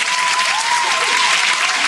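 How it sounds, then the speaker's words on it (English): Live podcast audience giving a brief, loud round of applause, a continuous wash of many hands clapping with no talk over it. "So a round of applause for that."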